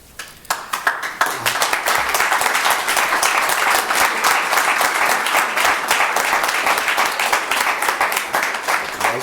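Applause fills a city council meeting, a sustained burst of many hands clapping that rises quickly and holds steady for several seconds.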